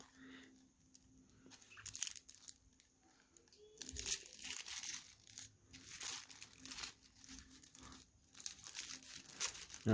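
Tissue-paper wrapping around a black and blue money clip wallet crinkles and tears during unboxing, with bursts of rustling close to the listener after a quiet start and a faint steady hum underneath.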